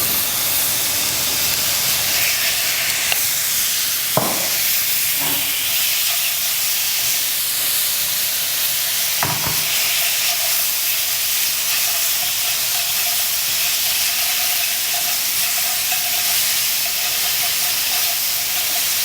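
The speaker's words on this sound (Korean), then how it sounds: "불고기는 오늘 기름 없이 볶을 거예요" Bulgogi beef stir-frying in a dry pan with no oil, giving a steady loud sizzling hiss throughout, broken by a few sharp clinks of a utensil against the pan.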